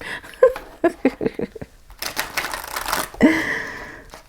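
Tarot cards shuffled by hand, a slippery deck giving a run of quick close riffling flicks and taps, then a broader papery rustle and a final louder slap as the cards settle.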